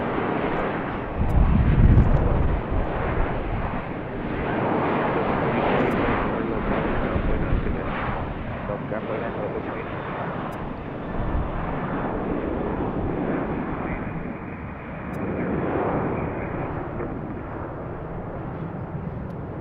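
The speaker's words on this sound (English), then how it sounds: "Here's our next departure. Southwest." A Southwest airliner departing BWI airport sends out a loud, sustained jet roar that swells early, then rumbles on steadily with gentle rises and falls, no talking over it.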